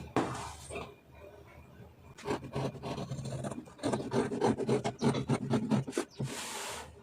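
Scissors slice through blouse fabric, three layers being cut at once, giving close, repeated rasping snips and a steady sliding crunch in irregular bursts, with brief quiet gaps between strokes and no voices.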